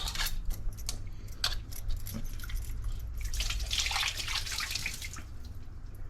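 Water splashes and trickles into a vessel holding raw mangoes set for boiling, with close clinks of metal and sporadic drips over a low background hum.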